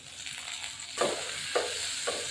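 Onion and tomato sauté with salt in a pan, a soft crackling sizzle broken by three louder stirring scrapes spaced about half a second apart, no talk.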